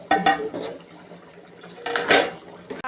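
A metal cooking pot holding potato palya with coriander is opened, giving a couple of clanking lid-and-utensil knocks with a faint sizzle in between, close and fairly loud.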